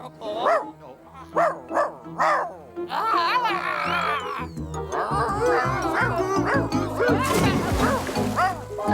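A young cartoon puppy in a French animated series gives a run of short yips and barks, then whimpers and yelps more steadily among other voices and music.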